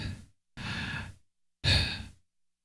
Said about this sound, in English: I wanted to get some breathing in there